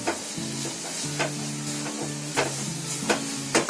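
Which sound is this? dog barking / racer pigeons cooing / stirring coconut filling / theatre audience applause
stirring coconut filling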